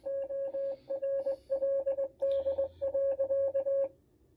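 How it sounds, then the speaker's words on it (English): A Haslab Ghostbusters ghost trap toy beeps out Morse code: a rapid, close electronic tone pulsing in short and longer bursts with brief gaps, running steadily for about four seconds with no talking. "It does a secret Morse code thing."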